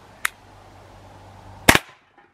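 Two sharp, dry cracks from an Umarex HDP 50 airgun pistol fired at a tin target from about 5 feet, a faint snap followed over a second later by a louder, brief report, with no talk.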